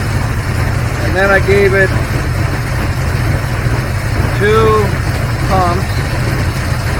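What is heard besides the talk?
carbureted engine idling after tuning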